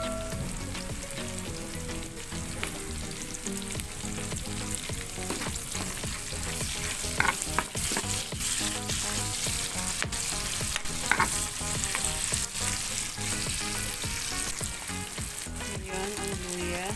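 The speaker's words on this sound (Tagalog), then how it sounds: "Lagay na natin ang sibuyas." Onions fry loudly in hot oil while being cooked for a laing dish, a continuous crackling sizzle overlaid with frequent clinks and scrapes of a utensil stirring against the pan, close and steady with no talking.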